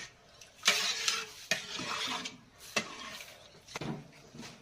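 Garam masala and coriander being stirred into a dish in a pan, with a utensil scraping and clinking in several distinct strokes over a soft sizzle.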